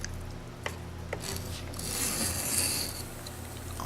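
A hand file rasps across chainsaw cutting teeth in a few short strokes, then one longer, brighter grinding pass up close, with no talk.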